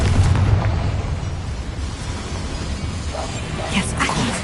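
A fiery spell blast from the Hogwarts Legacy video game rumbles loudly, a sustained explosive roar with crackling bursts toward the end.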